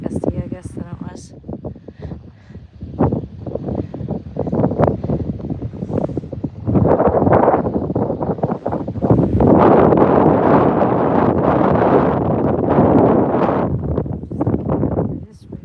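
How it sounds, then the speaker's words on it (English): Gusty wind blowing across open ground, roaring and buffeting a microphone outdoors in steady loud rushes that swell stronger in the second half, with no speech. "I think that's just the wind picking up whatever loose soil there is"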